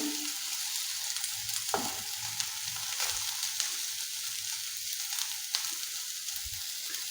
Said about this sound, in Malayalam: ഇതൊക്കെ ഒന്ന് ഇളക്കി യോജിപ്പിക്കുക